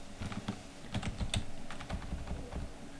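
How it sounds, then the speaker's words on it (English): Keys on a computer keyboard click in quick, uneven bursts, close and fairly quiet, with no voices over them. "Now we can start typing."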